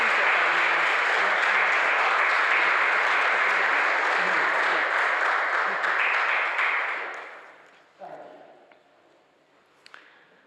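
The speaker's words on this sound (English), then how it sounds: "I think we give him a round of applause." Audience applause at a Unitarian chapel anniversary and membership service, a loud sustained clapping for about seven seconds before fading out, followed by a few faint sounds and brief talk.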